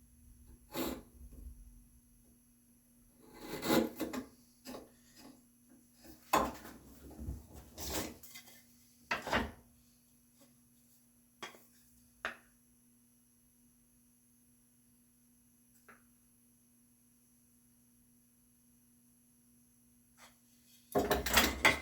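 Wood chisel paring shelf joinery for a spice rack, sounding as scattered short scraping and shaving strokes at close range, separated by long quiet gaps, with a final burst of strokes at the end.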